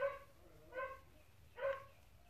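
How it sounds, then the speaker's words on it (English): A neighbor's dog barks three times at a steady, spaced rhythm, faint and somewhat distant, with no speech over it. "Neighbor's dog's going bananas."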